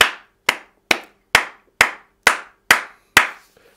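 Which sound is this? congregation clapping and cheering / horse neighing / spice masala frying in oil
congregation clapping and cheering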